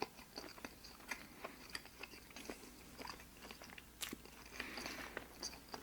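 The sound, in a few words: chewing a Burger King BK Melt sandwich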